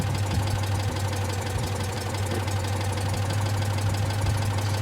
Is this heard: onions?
no